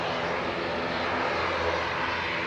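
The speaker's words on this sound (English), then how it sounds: "Lined up and ready to go behind the departing 737 is Aer Lingus Regional heading to Dublin. ATR 72-600" An Aer Lingus Regional ATR 72-600 turboprop departing Manchester Airport, a loud, steady broadband engine roar holding level throughout with no voices.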